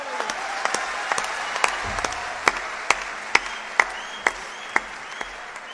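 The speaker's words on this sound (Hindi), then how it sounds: "एक बार जोरदार तालियां बजा दीजिए।" An audience at a poetry recitation applauds loudly, a sustained wash of clapping with sharp individual claps standing out in a steady rhythm on top.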